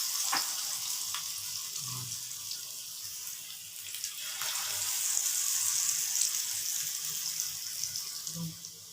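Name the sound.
pakora batter frying in hot oil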